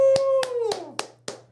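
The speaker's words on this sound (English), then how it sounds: "That's clapping." Hands clap sharply five times at a quick, even pace, close and crisp, with a voice sustaining a tone under the first few claps.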